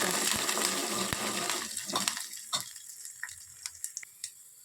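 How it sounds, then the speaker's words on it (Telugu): Curry leaves and garlic being stirred while frying in hot oil for a semiya breakfast dish, a steady sizzle with scraping stir strokes and a few sharp clinks toward the end, close by with no talk. "కరివేపాకు, ఎల్లిపాయ మంచిగా కలుపుకోవాలి."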